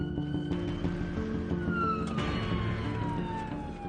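An ambulance siren wails with long sweeping tones that rise and glide down, steady and moderately loud over road rumble from the vehicle, with no voices.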